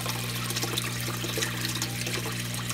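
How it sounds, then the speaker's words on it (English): Fresh tap water pours steadily into a large home aquarium during a water change, a continuous near rushing hiss with a low pump hum underneath and no talking. "And then the brand new water coming out, I fill it up."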